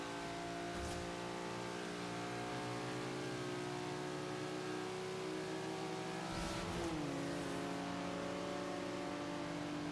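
A race car engine in the Forza Horizon 2 racing game drones steadily at high revs for the whole stretch, loud and unbroken, with a brief shift in pitch partway through as the car takes a turn.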